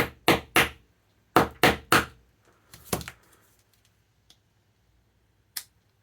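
Wire strippers whack the seam of a CVJ Freedom vape device to split it open: sharp, loud, close knocks in quick clusters of two and three, then a few lighter taps.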